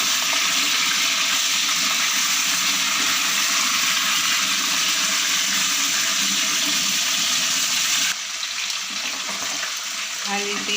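Half a kilo of chicken fries over a medium-high flame in oil already used for okra, giving a loud, dense, continuous sizzle that dips slightly near the end.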